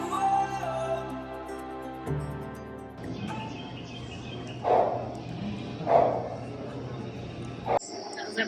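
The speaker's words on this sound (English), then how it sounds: "That was a baby gator, but it was so loud it made me jump." A baby alligator in the Everglades gives two short, sharp, chirping grunts about a second apart, loud and close against a quieter outdoor background.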